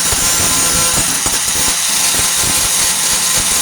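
A grinder works over a weld on a 1998 Ford Ranger tailgate during rust repair, giving a loud, continuous, close-up whine with rough scraping bursts as the disc bites into the metal.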